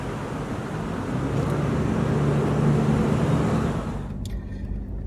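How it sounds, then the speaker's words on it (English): A car drives northbound on a road through Gila National Forest, with a steady low engine and road rumble that holds for most of the clip, then drops away near the end. "I'm driving northbound in through Gila National Forest."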